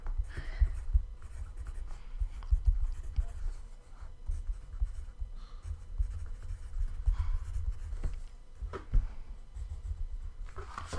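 A pen or pencil scratches on paper while a chess move is written down in notation, soft close scraping strokes in short bursts over about eleven seconds, alone with no talk.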